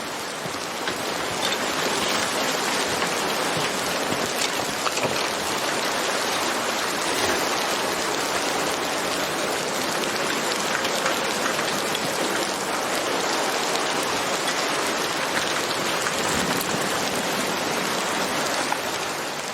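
Steady rain falling outdoors, a dense, even hiss of drops that holds at the same level from start to finish with no other sounds.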